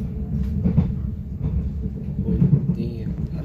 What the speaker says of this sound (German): Das ist der Zug.